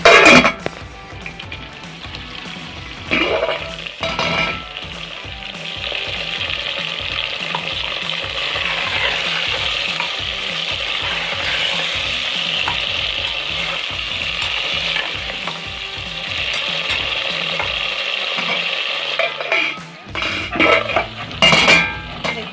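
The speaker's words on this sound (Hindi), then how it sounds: "माशाल्लाह कितने अच्छे फ्राई हो रहे हैं" Masala-stuffed tinda (bharwan tinde) frying in a pan while being stirred: a steady, close sizzle runs throughout under a quick, rhythmic train of scraping and clinking spoon strokes against the pan, with no talking.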